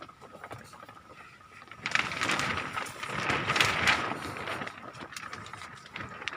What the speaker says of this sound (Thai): อันนี้ฝนตกครับ